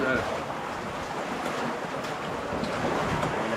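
Ocean waves close around a small fishing boat out catching squid, a continuous washing and sloshing with wind buffeting the microphone, moderately loud and unbroken throughout.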